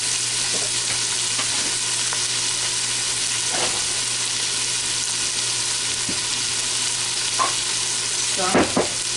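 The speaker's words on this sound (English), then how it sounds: "we're going to get this to saute a little bit." Spaghetti-and-meatball ingredients sauté in a pan with a steady broad sizzle throughout, broken by a few soft stirring scrapes, the last one louder near the end; no voices.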